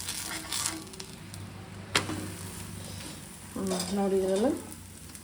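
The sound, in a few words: holige flatbread sizzling in oil after being flipped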